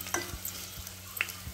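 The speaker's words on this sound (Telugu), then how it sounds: "ఫ్రై చేయాలండి ఇలా మసాలా వాసన పోయే వరకు." Masala paste frying in a pan while being stirred, with soft scraping strokes at a slow, regular rhythm over a faint low sizzle, quiet and close.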